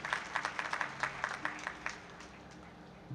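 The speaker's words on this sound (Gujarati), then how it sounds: "તો આ તમામ દાતાઓને આપણે જોરદાર તાળીથી વધારીએ" An audience at a family-themed talk claps for donors in a short burst of scattered, fairly faint applause that thins out and fades within a few seconds.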